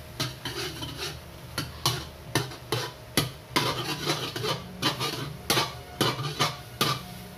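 Butter chicken curry stirred in a pot after boiling, a utensil scraping and rubbing the metal in steady repeated strokes, close and clear with no talking.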